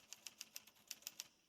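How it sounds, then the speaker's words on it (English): Typewriter keys in the video game Alan Wake, heard from inside a restaurant: seven crisp mechanical clacks in a quick, slightly uneven rhythm, fairly faint and close, with no voices. "And there's typing from inside of the restaurant."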